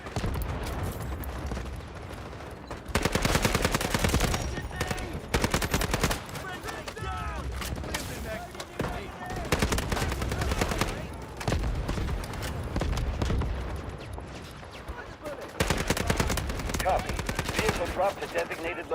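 Bursts of rapid gunfire from a shooter video game set in Zero Dam, with SMG and machine-gun volleys, repeated heavy firing sections mixed with quieter gaps, loud and close throughout.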